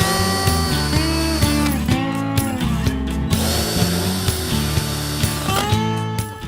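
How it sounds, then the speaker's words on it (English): Power drill boring pilot holes into a wooden loft shelf, a loud close whine whose pitch steps up and down as the bit speeds and bites, with no talk. "we're going to drill a couple of pilot holes through the top"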